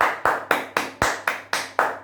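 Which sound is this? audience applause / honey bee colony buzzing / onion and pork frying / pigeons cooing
audience applause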